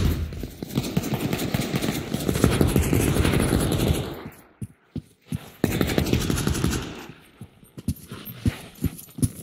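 Rapid automatic gunfire hammers into a wall in the game Pavlov, loud dense bursts with brief gaps between volleys, close and harsh.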